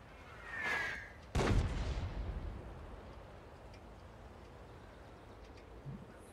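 A single heavy tank cannon shot in World of Tanks, a loud booming blast that rolls off into a fading rumble, preceded by a softer whooshing sound.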